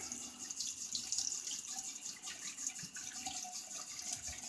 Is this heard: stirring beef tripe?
no